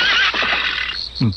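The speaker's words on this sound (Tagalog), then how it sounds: "Parang halinghing ni Kidlat yung narinig ko" A horse named Kidlat whinnies loudly and close by in a fenced area, a shrill wavering neigh that falls away and ends in a short low snort.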